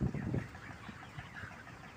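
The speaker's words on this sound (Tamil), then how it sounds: "பாருங்கள் எவ்வளவு கோழிகள் இருக்குதுன்னு" Many broiler chickens cluck and murmur together in a large flock on a poultry farm, a busy low chatter with one louder squawk at the start.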